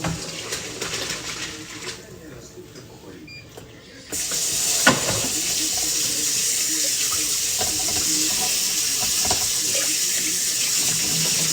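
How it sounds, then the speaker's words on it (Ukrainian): Tap water runs into a kitchen sink while raw chicken liver is rinsed: a softer trickle at first, then a loud, steady, hissing gush close by that continues to the end. "Зараз я її промию, поріжу і насмажу."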